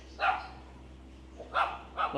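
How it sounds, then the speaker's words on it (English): Dogs in a small cage at a Thai temple bark in short bursts, one near the start and two more toward the end, with quiet gaps between. "we got a little cage over here with some dogs in it"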